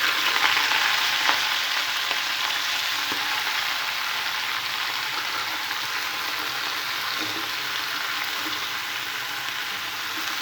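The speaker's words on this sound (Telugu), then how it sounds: "పల్లీలు కూడా ఫ్రై చేసుకున్న తర్వాత ఇదే ఆయిల్లో పాలకూరను కూడా ఫ్రై చేసుకోవాలి." Spinach frying in the same hot oil used for peanuts, a steady soft sizzle with light crackles and occasional stirring, continuous and close with no talking.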